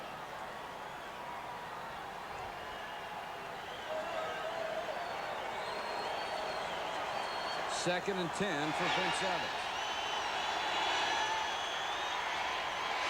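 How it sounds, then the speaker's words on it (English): Football stadium crowd at a 1993 preseason Raiders at Cowboys game, a broad steady roar that swells and grows louder partway through, under a play-by-play announcer's talk. "Crowd getting into it a little bit"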